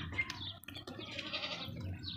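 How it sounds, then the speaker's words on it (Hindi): A heavy castrated male goat with two adult teeth, a livestock animal prepared for Eid sacrifice, bleats in a short run over low farm background noise. "ये बकरा खसी भी है और 2 दांत भी है, माशाल्लाह वज़नी बकरा है"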